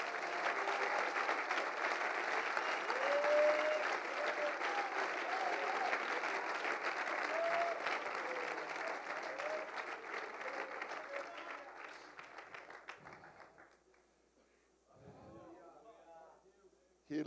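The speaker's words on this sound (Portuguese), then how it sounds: "Uma salva de palmas para Jesus." A church congregation applauds during a sermon, steady crowd clapping with scattered shouts that carries on for about thirteen seconds before fading, then someone speaks.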